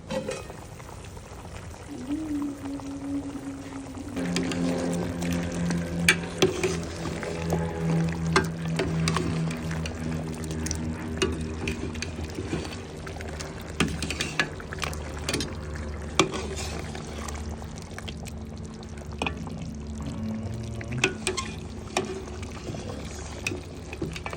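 Water pours steadily into a pot of curried oxtail alongside ongoing kitchen clatter, with a few sharp knocks and clinks breaking through the continuous splashing.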